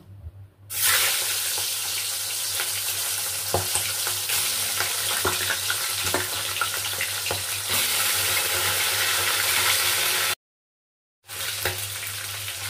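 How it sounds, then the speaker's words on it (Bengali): Fish heads fry in hot mustard oil with a loud, continuous sizzle broken by occasional crackles and stirring clicks, a steady low hum underneath and a brief silent gap near the end. "তেল গরম হয়ে গেছে, এবার আমি মাছের মাথাগুলো ভেজে নেব।"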